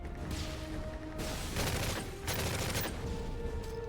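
Video game gunfire from Call of Duty MW3 comes in dense, rattling bursts of rapid shots with some crashing impacts. It is moderately quiet and continuous over several seconds.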